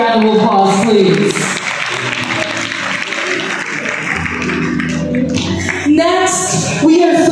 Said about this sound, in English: Let's give each other a big round of applause, please